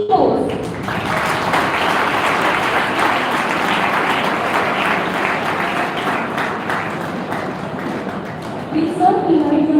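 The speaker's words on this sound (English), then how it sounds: "shall we have a great round of applause to welcome Mr. Sachin, founder and CEO of ePost" Students at a university Engineers Day celebration applauding to welcome a guest on stage, sustained loud clapping for nearly ten seconds with crowd murmur mixed in.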